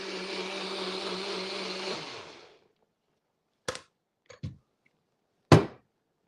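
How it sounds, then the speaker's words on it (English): A blender whirs steadily for about two seconds while grinding cashews into a thick paste, then cuts out, followed by a few sharp knocks and clunks of the jar and lid. "You want to make sure the cashews are very well ground up."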